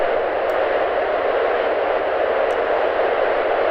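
Steady, loud rocket engine roar at full throttle in Kerbal Space Program, a continuous broadband rush that holds level throughout with no talking.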